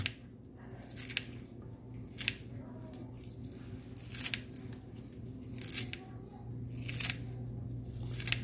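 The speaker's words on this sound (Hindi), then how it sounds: "उसके पत्तों को ऐसे फोल्ड करके बारीक, जितना बारीक कट सके इतना अच्छा है।" Folded green onion leaves being finely chopped with a knife, a series of crisp, sharp cuts spaced irregularly over a steady low background hum, close and fairly quiet.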